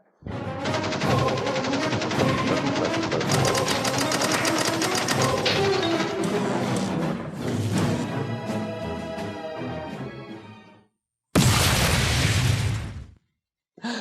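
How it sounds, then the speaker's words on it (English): Loud, dense burst of booming sound-effect noise on a talk show, rolling on for several seconds before cutting off, then a second short blast after a brief gap. "I love that explosion."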